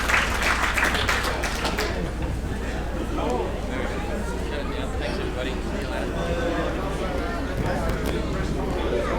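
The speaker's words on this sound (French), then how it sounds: "On peut encore l'applaudir s'il vous plaît." Audience applause for sailor Mark Slats at a press conference, clapping strongest at the start and then tapering into crowd chatter and murmuring voices, with people talking over the fading claps.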